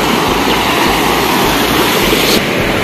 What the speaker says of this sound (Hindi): तो गाइस ये यहाँ का पानी आप देख सकते हो।